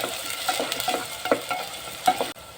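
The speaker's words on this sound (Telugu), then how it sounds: "ఉల్లిపాయలు సన్నగా కట్ చేసి పెట్టుకున్న రెండు ఉల్లిపాయలు ఇవి కూడా బాగా వేయించుకోవాలి" Thinly sliced onions fry in a pan, a soft sizzle broken by repeated scraping strokes of a spoon, several stirs in quick succession, close up, with no one talking.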